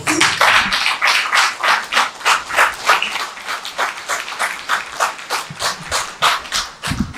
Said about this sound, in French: je vous prie de vous applaudir très fort